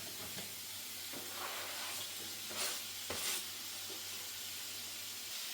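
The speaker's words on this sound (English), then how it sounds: "I'm going to add the onion in now." Onion sizzling in a frying pan, a soft, continuous hiss and crackle with a couple of brief louder bursts, faint and close, with no voices.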